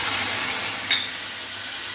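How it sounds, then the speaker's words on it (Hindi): Steady, even sizzling of mustard seeds, curry leaves and slit green chillies tempering in hot oil, a constant crackling hiss with a brief pop partway through. "तेल मैंने डाला है और हरी मिर्च को बीच से फाड़ के 3 हरी मिर्च डाली है, कड़ी पत्ता, राई, तड़का चल रहा है।"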